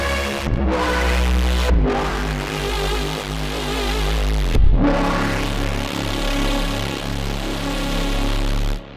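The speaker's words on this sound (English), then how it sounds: "This is called Bone Grinder Synth because it's totally sick." Electric guitar played through the Bone Grinder Synth preset in the Archetype: Rabea amp plugin, a dense, heavy wobbling synth tone whose oscillations speed up, sustained and loud with a few short breaks, no talk.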